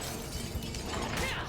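Smashing during State of Decay 2 gameplay in plague territory: a brief crackle of shattering and breaking debris over a dense, steady game mix, fairly loud and unbroken for a second and a half.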